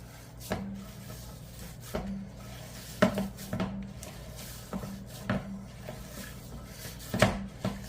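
Bread dough with avocado oil is mixed in a bowl, giving intermittent knocks, clinks and soft scrapes of the utensil against the bowl, spaced irregularly and close by.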